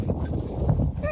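Maisie, a dog in a training session, gives a brief, high, tonal whine of excitement near the end, over quiet background talk and low rumble.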